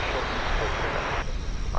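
An airliner taxiing at DFW Airport on its turn toward the international terminal, a loud steady engine roar close by with a person talking over it.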